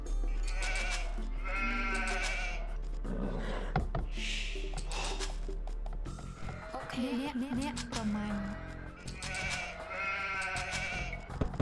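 Sheep bleat repeatedly among game sounds while hunting sheep in Age of Empires 2, with other in-game effects and background music layered throughout.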